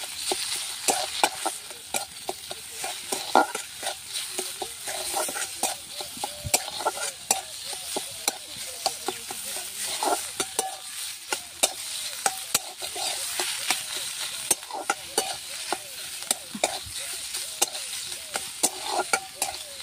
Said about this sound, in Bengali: নুন দিয়ে ভালো করে মিশিয়ে নেব